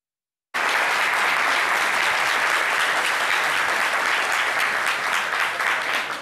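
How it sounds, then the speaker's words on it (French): Dense, steady applause from a television studio audience fills the space after a short silent start, loud and continuous with no speech over it. "On va vous accompagner avec des applaudissements."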